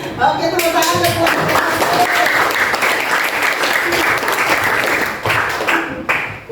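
A classroom full of students applauds loudly and steadily, a dense wash of clapping that carries on for several seconds with some voices mixed in.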